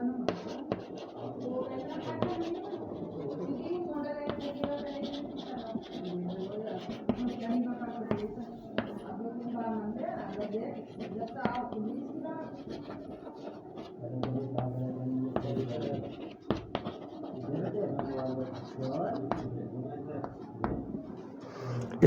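Chalk or marker scratching on a board during a Hindi-language grammar lesson, steady faint strokes running under near-continuous speech from the teacher.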